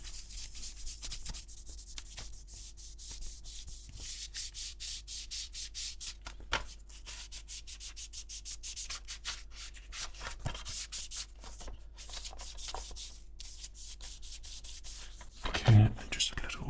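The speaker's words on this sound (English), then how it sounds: "Okay, so we just give that little rub there." A PS2 game case is rubbed and polished clean with a cloth in a steady run of soft, close, rapid rubbing strokes, then a brief louder handling bump near the end.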